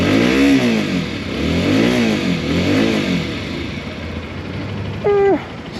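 Keeway RKR 125 motorcycle engine revving up and down in three rising and falling waves, fairly quiet and close, then settling to a steady idle with a brief higher whine near the end.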